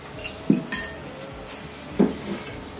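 An ovenproof baking dish set down on a kitchen counter, two short clinking knocks about a second and a half apart, near and fairly loud with no talk.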